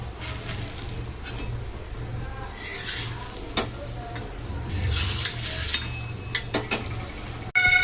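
Puran poli flatbread fries in oil on a hot tava griddle, giving a constant close sizzle. Occasional scraping and clattering strokes of a spatula sound over it.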